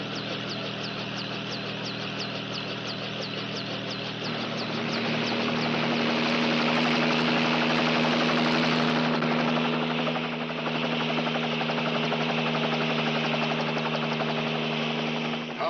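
Police helicopter engine and rotor drone loudly and steadily, with a rhythmic chopping pulse early on and a strong low hum throughout, rising in intensity midway.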